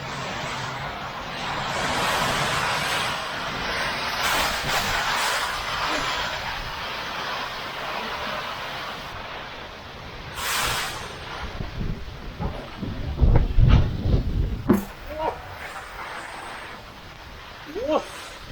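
Strong wind gusts roar through a rural Thai vegetable garden during a heavy rainstorm, a steady broadband rush that swells and eases, with louder close buffeting near the end and someone talking at times.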